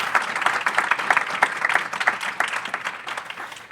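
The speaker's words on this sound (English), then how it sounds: "Let's give them a quick round of applause for joining us today." Audience applause for guests at a foundation livestream event, a continuous crowd of hands clapping fairly close and steady throughout, slightly easing toward the end.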